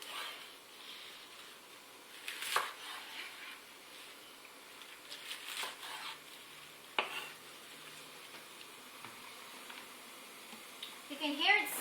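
Spinach pakoras fry in a pan on a stove at full heat, a faint soft sizzle with occasional stirring clatters and scrapes, while a person talks quietly over it.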